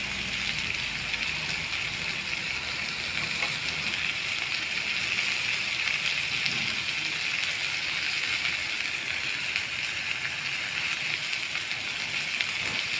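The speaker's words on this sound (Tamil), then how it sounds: "நல்லா வெங்காயம் வதங்கட்டும்" Chopped onions sautéing in a pan while cooking a Tamil-style raw banana stir-fry, a steady close hiss and crackle of frying that runs continuously without pause.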